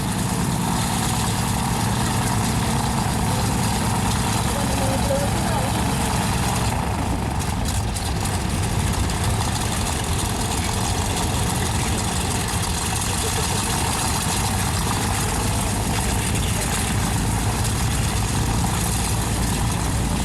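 A de Havilland Caribou aircraft at an airshow, its engines idling and taxiing with a steady, loud, droning rumble that holds without a break throughout.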